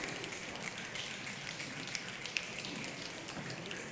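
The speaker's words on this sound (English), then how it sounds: "Snap your fingers." Many people snapping their fingers together in a body-percussion rainstorm, a scattered, crisp crackle of overlapping snaps that sounds like steady rain, mid-distance and fairly quiet, with no talk.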